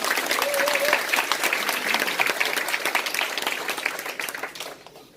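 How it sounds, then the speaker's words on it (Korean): Sustained audience applause from a seated crowd at a Korean lecture-style talk, steady dense clapping throughout that thins and fades near the end. "네, 박수 한번 주실까요, 그냥?"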